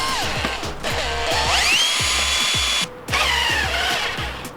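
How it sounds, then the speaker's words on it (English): Cordless drill spinning a car jack while lifting a 4x4 for suspension work, close and loud with rapid clicking and a whine that climbs, a short pause, then more turning. "who wants to twist the jack when you've got a drill?"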